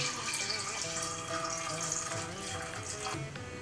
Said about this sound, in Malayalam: ഈ കടല മുങ്ങി നിൽക്കുന്ന അളവിൽ വെള്ളം ഒഴിച്ചു കൊടുക്കാം.